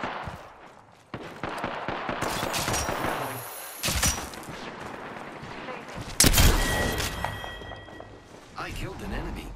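Rapid bursts of automatic gunfire from the video game Apex Legends, loud and close, with sharp repeated shots, reload clatter and overlapping battle noise, and a synthetic in-game voice speaking.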